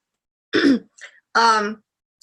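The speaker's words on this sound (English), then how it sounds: "So you'll hear me clearing my throat" A person with lingering chest congestion clears their throat twice, close and alone: a rough rasping grunt, then a short pause and a more voiced, tonal second clearing.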